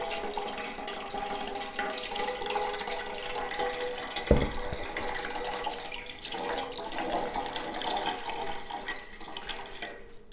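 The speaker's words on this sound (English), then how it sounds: "We want to saturate that soil and allow it to drain." Water pours steadily over soil in a ceramic houseplant pot, a continuous trickling splash with one brief thump midway, close and fairly quiet with no talking.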